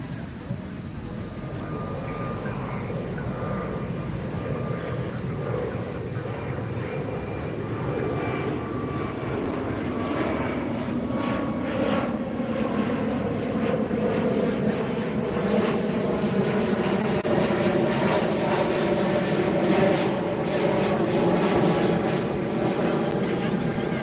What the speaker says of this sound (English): This is an Airbus 321 headed to Denver.